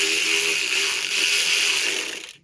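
A ratchet with a 10 mm 12-point socket breaking loose a wheel bolt on a Harley Davidson front wheel, heard as a close, loud, continuous run of fast ratcheting clicks that stops abruptly.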